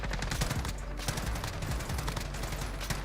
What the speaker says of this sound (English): Boom, just shot him straight through the wall